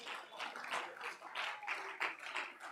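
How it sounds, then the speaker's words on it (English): A church congregation claps in praise during worship, giving steady, overlapping applause with a rhythmic pulse. It sounds faint and somewhat distant, with voices mixed into the background. "clap your hands and give him praise"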